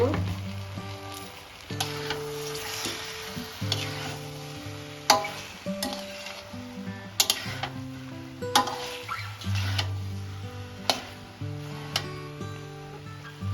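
Mixed vegetable curry sizzling and frying in a pan after a spoonful of sugar is added, with a spoon scraping and stirring in irregular strokes, close and steady.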